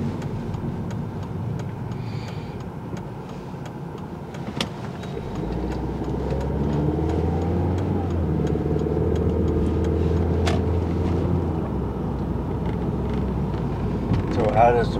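Steady car engine and road rumble from inside a moving vehicle, a continuous low drone that swells slightly midway, with a faint ticking and brief knocks.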